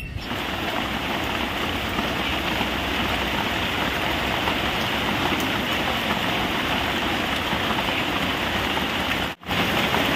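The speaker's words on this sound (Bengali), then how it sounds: "দেখো কিভাবে বৃষ্টি শুরু হয়েছে, পুরো মেঘ গর্জন করছে।" Steady heavy rain pours down continuously at close range, a dense even hiss with no distinct thunder crack standing out, briefly cutting out near the end.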